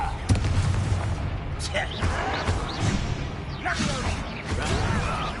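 Fiery Confringo spell blasts in Hogwarts Legacy land as several sharp, booming bursts amid continuous combat noise, with voices talking over them.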